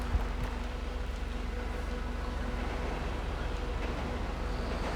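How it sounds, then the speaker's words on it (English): A train rumbles past in GTA Online, a steady low droning roar with a faint hum, constant and fairly loud throughout with no talking. "there's a train coming"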